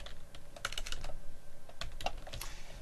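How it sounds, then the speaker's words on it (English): Typing a profile name on a computer keyboard while setting up a Microsoft Outlook profile: a close, continuous run of key clicks with a few sharper strokes standing out, no voices. "give your new profile a name"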